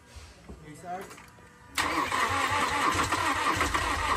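A Toyota Commuter Deluxe van engine cranks and catches partway through, then settles into a loud, steady running roar, with someone talking over the idle.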